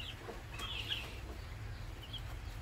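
A heritage cross chicken gives a few soft clucks and short calls, fairly close over a low background hum, with no one speaking.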